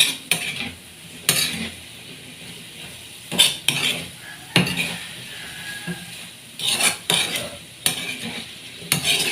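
Mixed vegetables are stirred in a metal pan with a utensil, making intermittent clanks and scrapes against the pan over a soft sizzle, close and fairly loud, with no talk.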